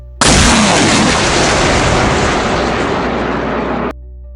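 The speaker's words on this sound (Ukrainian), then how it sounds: "і школа вибухає" A school building blows up from shelling in a single loud explosion, erupting at once into a sustained roaring blast that holds for several seconds before cutting off abruptly.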